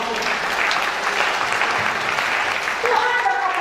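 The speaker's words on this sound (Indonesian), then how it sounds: "Berikan dulu tepuk tangan bagi Tuhan." A church congregation applauds at a Pentecostal Sunday morning service, a dense, steady wash of many hands clapping throughout, with faint voices and some cheering mixed in near the end.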